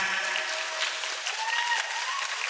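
Crowd applause during an Islamic school briefing session, a thick continuous patter of many hands heard from within the audience, steady and fairly bright throughout.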